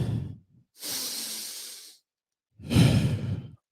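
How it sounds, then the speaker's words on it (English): Three close, loud breaths: a short one, then a long, airy inhale, a pause, and a heavier, deeper breath before the clip falls silent. "So we'll take a deep breath in."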